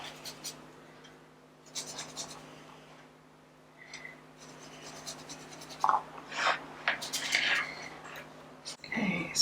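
Soft brushing and scratching of a brush applying gesso over darker collage paper, intermittent strokes at close range with light rubbing textures and no talk.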